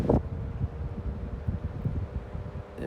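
An Xpelair Taurus desk fan runs at speed, giving a steady, low, airy whoosh close by with no talking.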